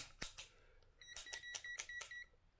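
A multimeter set to continuity mode gives short electronic beeps during a repair diagnosis. Several brief tones repeat in quick succession, faint and close, with light handling clicks around them and no talk.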